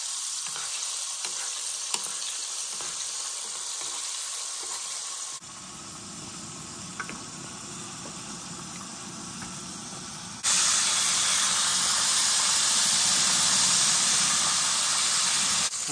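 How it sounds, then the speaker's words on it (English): Fresh-caught catfish fries in hot oil outdoors, a loud continuous crackling sizzle that shifts in intensity, swelling to a dense, bright roar in the final seconds. "We'll fry it for about 3-4 minutes."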